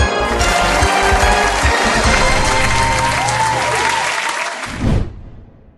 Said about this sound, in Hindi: तालियां दीजिए सज्जनों